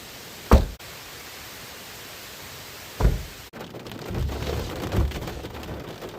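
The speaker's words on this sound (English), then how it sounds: "Rain's starting to come down." Rain patters on a car with no talking, broken by two sharp knocks before a steadier wash of falling drops sets in.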